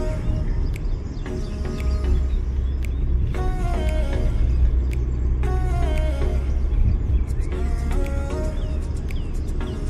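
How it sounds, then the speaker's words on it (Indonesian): A car driving on a snowy road in the Netherlands, its steady low road rumble close and continuous under intermittent bursts of music or voices from inside the cabin. "Untuk saat ini aku nyetir sekitar antara 50 sampai 60 km per jam karena takut jalannya tuh menyempit gitu"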